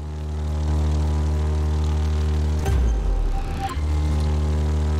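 A propeller airplane flies in The Crew 2 with a loud, steady engine drone full of harmonic hum, briefly disrupted by a rushing whoosh near the middle before the engine tone settles again.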